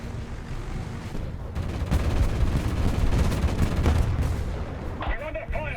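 Gunfire and explosions in the Global Conflagration RTS game: a dense, continuous barrage of rattling shots and booming blasts, loud and close, swelling in the middle, with brief voice chatter near the end.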